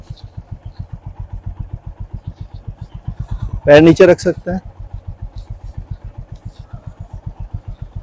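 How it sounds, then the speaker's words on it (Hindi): A motorcycle idles and rolls slowly during a beginner riding lesson, its engine putting out a steady rapid pulsing throb throughout, with someone briefly speaking over it midway. "बाइक स्टार्ट करते हैं, धीरे धीरे चलते हैं"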